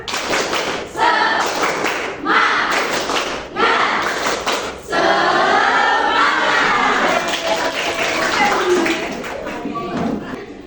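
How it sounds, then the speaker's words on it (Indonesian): A class of students standing and doing a rhythmic spirit clap, bursts of patterned group clapping with shouted chants, fairly close and loud, repeating in several phrases. "Oke, tepuk semangat"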